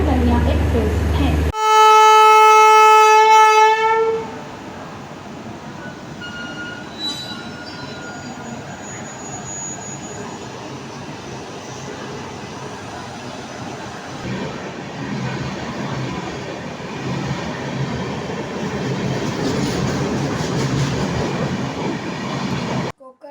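Konkan Kanya Express 20111, the Mumbai–Madgaon train, rolls steadily at a station platform with a continuous rumble and wheel noise that swells toward the end, opening briefly on a loud announcement chime.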